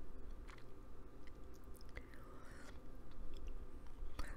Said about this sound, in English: I'm chewing a candy.